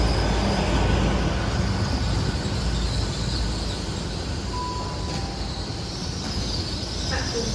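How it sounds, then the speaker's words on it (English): Great Western Railway train on the Penzance to London Paddington service at Truro station gives off a loud, steady rumble of rolling stock and engine noise that continues throughout, with faint tonal squeals near the end. "the train I'm going to take out of here is arriving in"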